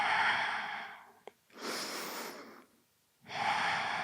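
Slow, deep breaths during a gentle morning yoga stretch: a long exhale, a short catch, a full inhale, a pause, then another breath, all close and clear with no talking.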